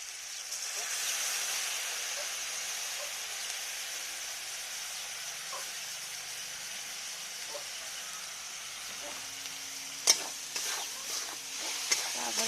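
Spice masala with turmeric frying in a pan as it is stirred, a continuous gentle hiss and sizzle with a few clattering spoon knocks near the end.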